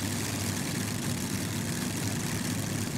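A pulling tractor's engine at a tractor pulling competition roars as a dense, continuous, loud drone with a low throb, steady from start to finish with no pauses.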